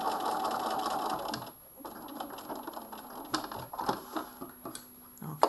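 A sewing machine stitches a coat's back seam through thick bulk, running steadily at first, then slowing into uneven, faint bursts of stitching.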